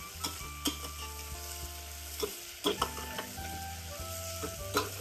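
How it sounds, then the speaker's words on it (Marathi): Tomatoes stirred into masala khichdi frying in a pan, with a constant close sizzle and several sharp spoon scrapes against the pot at uneven intervals. "आता यामध्ये मी टोमॅटो घालून घेतलीये."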